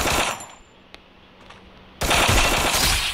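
Gunfire from the Free Fire battle-royale video game during headshots, a loud burst of shots at the start, then quiet, then a dense, loud second volley at the end, with no talking.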